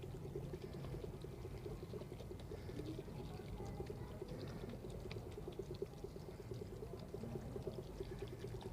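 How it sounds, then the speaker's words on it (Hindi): Half a litre of water poured into a pot of chopped vegetables and tomatoes while cooking aloo gosht, a continuous splashing, bubbling pour that runs steadily and fairly close without pause. "इसमें आधा लीटर पानी डाल के"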